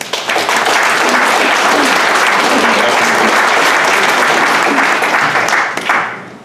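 Loud, sustained applause from the audience at a Champlain Fire Department banquet, dense steady clapping that fills the room for several seconds, then tapers off at the end.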